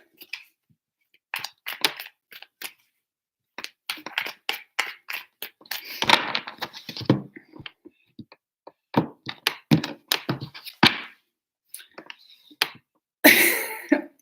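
Tarot cards being shuffled by hand in several separate bursts of soft riffling and tapping, close and fairly quiet, with short silent gaps in between.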